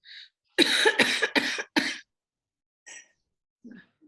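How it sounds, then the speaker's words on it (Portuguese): A close, harsh fit of four rapid coughs in a row, followed after a pause by a couple of softer, isolated coughs. "Eu tô tossindo, você tá vendo"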